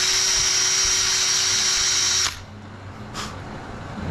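A power drill with a countersink bit whines loudly and steadily while drilling brake lining on a 1914 Chevrolet, then stops abruptly, leaving a quiet room and one short burst of noise.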